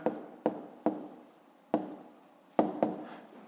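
A pen scratches numbers onto paper in short strokes, about seven quick taps and scrapes at an uneven rhythm, close and quiet with no voice over them.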